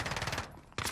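Automatic fire from a Stoner 63 light machine gun in Call of Duty, a rapid rattling burst that pauses briefly before a second loud burst, close and sharp with no talk over it.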